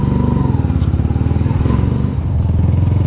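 A warmed-up motorcycle engine idles close by with a rapid, steady thumping pulse. The running sound stays loud and continuous, and no one speaks over it.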